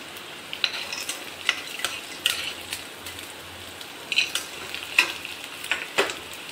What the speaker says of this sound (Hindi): मंगोड़ी को भी प्याज के साथ 5 मिनट मीडियम आंच पर भूनें।